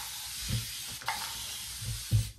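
Warm water misted from a hand spray bottle onto 4b/4c hair, two or three short soft hissing bursts close by with quiet pauses between, no talking.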